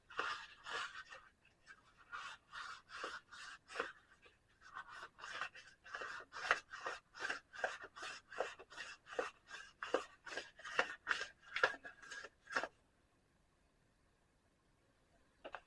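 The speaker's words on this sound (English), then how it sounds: "real fine sandpaper. This might be too fine. And wrap it around there." Very fine sandpaper rubbing back and forth on a DT250A engine part during assembly, a fast, steady train of close scratchy strokes for about twelve seconds before going quiet.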